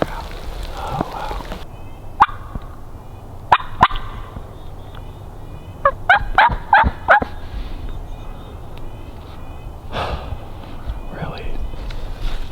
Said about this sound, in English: There were like 3 different gobblers.